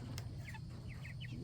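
Soft, quick chicken clucks chirp a few times over a low, steady background rumble.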